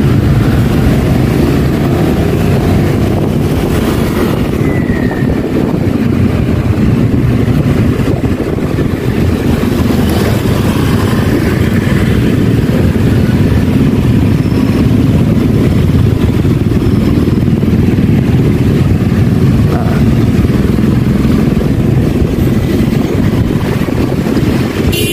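Motorcycle taxi ride through congested Jakarta traffic, a loud steady roar of engine and rushing wind buffeting the microphone, continuous for the whole ride with no talk.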